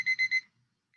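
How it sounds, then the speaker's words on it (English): A timer alarm going off: three quick electronic beeps in a steady rhythm, close and clear, then silence. "was a weird timer that went off."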